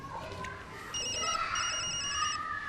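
A telephone rings in a drama scene, an electronic ringing tone in repeated bursts that starts about a second in and continues steadily over faint background noise.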